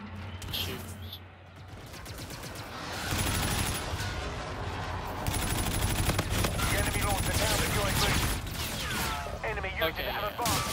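Dense, rapid automatic gunfire from Infinite Warfare, the first-person shooter, with bursts of shots layered into a continuous loud barrage that builds after the first few seconds, mixed with game effects while a voice talks over it.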